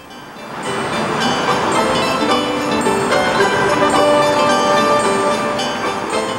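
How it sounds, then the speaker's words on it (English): Sleigh bells jingle on a horse-drawn sleigh in snowy Geauga County, Ohio, a bright, steady shimmering rattle with ringing tones running loud and continuous throughout. "Weather permitting, the sound of sleigh bells will again bring forth memories out here"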